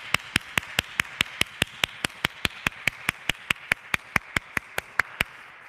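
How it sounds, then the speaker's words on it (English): At a Lutheran church Sunday service, a single set of hands claps in an even, sharp rhythm, about three or four crisp claps per second, close and isolated, with no crowd texture around it. "I invite you to give a round of applause for our two newest"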